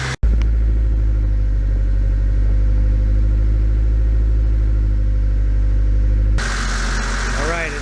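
A Honda D16 engine fitted with a Jasma race cam idles steadily at about 1500 RPM, a loud, continuous low rumble with a lumpy pulse that holds throughout, shifting tone briefly near the end.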